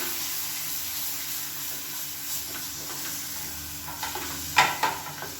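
Curry leaves and coriander paste frying in hot oil in a pan while being stirred for a Tamil kulambu, giving a steady close sizzle and hiss with a few louder scraping stirs near the end.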